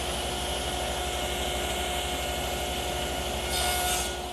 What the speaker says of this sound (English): I now want to make a shoulder cut on each edge of the solid pieces and nibble away the material